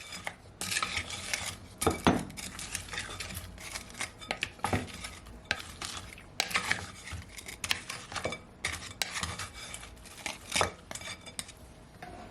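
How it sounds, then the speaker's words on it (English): Chicken wings are tossed with sweet chilli sauce in a bowl, with repeated clinking and scraping of a utensil against the dish in an irregular stirring rhythm, fairly quiet and close. "I'm just gonna mix it all together like so."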